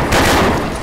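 Loud revolver gunshot in the zombie shooter game Brainbread, a sharp blast that rings out and decays with dense rumbling gunfire texture over under a second.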